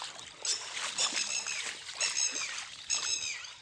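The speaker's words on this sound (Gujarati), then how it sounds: "ઉપરવાસમાં જેટલા પણ ડેમ છે એ ભરાયા પછી આ પાણી આમાં વહેતું થયું છે નદીમાં" River water flows past after upstream dams have filled, a nearby trickling, splashing burble with uneven surges and small splashes.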